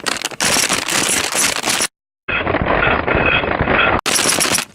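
Dense metallic rattling and clinking of many silver coins, loud and close, broken by a brief silence before the jingling resumes.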